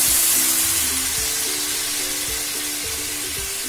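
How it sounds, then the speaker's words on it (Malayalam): Chicken stock poured into a pan of sizzling masala and onions gives a continuous loud hiss and bubbling, slowly easing, over a low steady mechanical hum, with no talking. "നമ്മൾ നേരത്തെ എടുത്തു വെച്ചിരിക്കുന്ന ചിക്കന്റെ സ്ട്രോക്ക് ഇതിനകത്തേക്ക് ഒഴിച്ചു കൊടുക്കുവാണ്"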